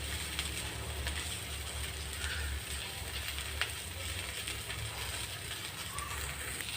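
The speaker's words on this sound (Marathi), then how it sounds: "तर आपल्याला इथे लो फ्लेमवरच भाजी परतून घ्यायची आहे।" Sliced okra (bhindi) sautéing in a pan over a low flame gives a steady, soft sizzle that runs unbroken throughout, close and even, with no talking.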